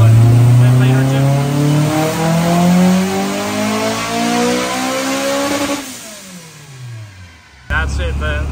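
Honda S2000 race car with a single exhaust revving loudly on track, engine note climbing through the gears then dropping off, with a brief shift in tone near the end.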